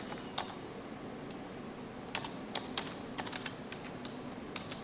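Keys on a computer keyboard are tapped out in an irregular run of light, close clicks while a command is entered, with a few sharper presses standing out over a quiet room hiss.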